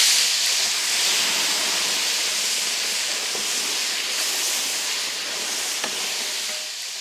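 Spice paste dropped into hot oil already holding fenugreek, cumin and fennel, for a Godavari-style chicken tamarind curry, giving a loud, steady hiss and sizzle that fills the whole stretch with no talk.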